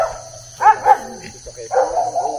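A husky barks a few times close by on Mount Banahaw, short sharp yaps with gaps between, over a low steady background hum.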